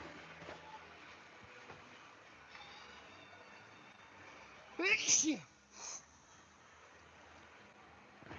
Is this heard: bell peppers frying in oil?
no